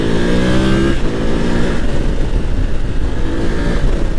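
A BMW F850GS motorcycle accelerates hard on a road ride, its engine loud and close, revving up through gears with a brief shift dip, continuous and unaccompanied by talk.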